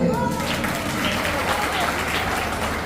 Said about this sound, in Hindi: तालियां बंद कर दे